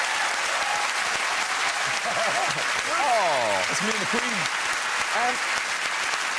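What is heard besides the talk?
studio audience clapping for Sir Lenny Henry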